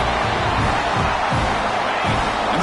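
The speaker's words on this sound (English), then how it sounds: "And the crowd coming to life here" A steady, dense roar from a football stadium crowd in Miami, rising as the home defense digs in near the red zone, a continuous wash of massed voices and cheering throughout.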